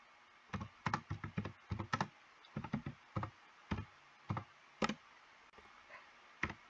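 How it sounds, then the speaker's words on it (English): Quick bursts of typing on a computer keyboard, clusters of crisp keystrokes with short pauses between them, close and fairly quiet. "Okay, I just typed in notes to my friend."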